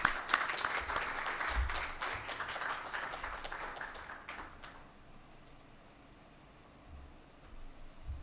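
Audience applause welcoming the chief guest, Shri Rajkumar, on stage at an Actuaries Day celebration, a steady round of clapping that fills the hall for about four seconds and then fades to quiet room tone.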